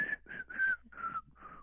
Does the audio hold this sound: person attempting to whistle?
yes